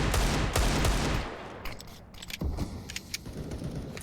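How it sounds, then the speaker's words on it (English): Desert Eagle pistol shots in the CS:GO video game: a dense, loud volley of gunfire at first that fades, followed by a few scattered sharp shots farther off. "Deagle sounds scary."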